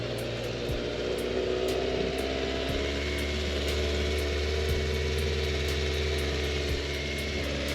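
A 2024 Kawasaki Z900 motorcycle with its stock exhaust idles quietly and evenly nearby, a low steady hum with faint regular ticks on top.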